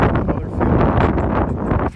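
Strong, steady wind buffeting the microphone, a loud broadband roar that gusts throughout and dips briefly near the end.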